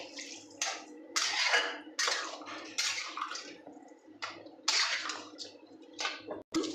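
Water is poured into a cooking pan holding a soybean dish, making close, splashing gushes in uneven bursts with short pauses between them, with no voices.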